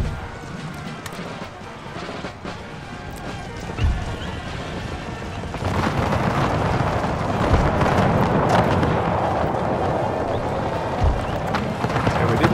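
Massed musket volleys crack in a Total War: Empire battle, a loud rolling wash of gunfire and clatter that swells sharply halfway through and keeps going, with a few heavier thumps.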